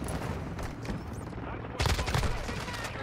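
Rapid bursts of automatic gunfire in a Modern Warfare 2 match crackle at mid distance, swelling into a louder, denser volley partway through over a busy game background.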